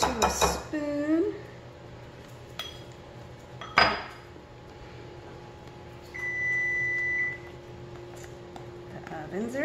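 A preheated kitchen oven gives a single sustained electronic beep lasting about two seconds. Before it come clanks of dishes and utensils and a brief voice.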